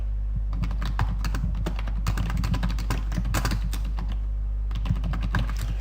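Rapid typing on a computer keyboard, a close, crisp flurry of key clicks in bursts with brief pauses, over a low constant hum.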